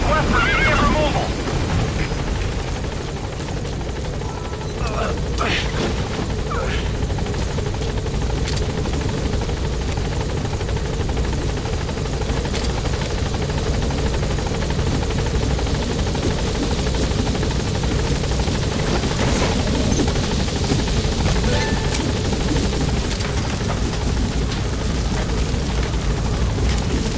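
In Metal Gear Solid V, a helicopter hovers near an obstructed landing zone, its rotor roaring loud and constant throughout, with occasional voices and game sounds over it.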